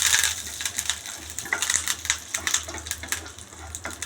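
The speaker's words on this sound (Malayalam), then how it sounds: "ഞാനൊരു 4-5 കറിവേപ്പില ഇടുകയാണ്." Mustard seeds and a few curry leaves crackle in hot oil, a dense run of sharp pops and spits with a bright sizzling hiss, close and busy throughout without talk.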